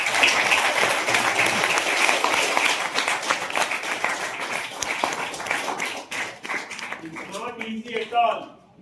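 An audience at an education event claps for teachers in a dense, steady burst of applause that thins out and fades over the last few seconds.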